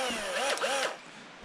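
Cordless power drill fitted with an 8mm socket nut driver, working on a hybrid car battery pack; a short whirring spin that rises and falls in pitch, close and fairly loud.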